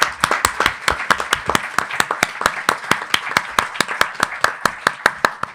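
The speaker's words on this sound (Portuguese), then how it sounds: "uma salva de palmas para vocês todos" Audience at a Lisbon book-talk event clapping in a steady, moderately sized burst of applause, individual claps distinct and rhythmic, fairly close and alone without speech.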